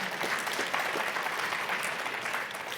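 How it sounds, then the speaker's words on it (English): An audience claps together at a political address, a full steady patter of hands that tapers slightly toward the end, with no talk on top. "You can clap if you want."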